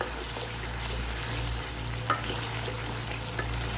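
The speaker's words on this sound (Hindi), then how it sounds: "बस हम इसकी थोड़ी सी और भुनाई करेंगे" Mutton karahi stir-frying (bhunai) in a wok, a steady low sizzle and fry hiss running throughout at moderate level, with a faint scrape or two and no talking.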